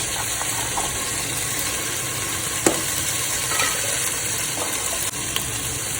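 Spices with turmeric sauté in a hot pan with a steady, even sizzle and frying hiss, broken by a few sharp scrape-clicks from stirring, close and continuous.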